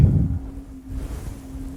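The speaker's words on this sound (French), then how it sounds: "Il y a du vent." Wind blowing across the Martian surface as an audio-drama effect, a low steady rushing gust with a faint sustained hum, strongest at the start and then settling into a constant breezy drone.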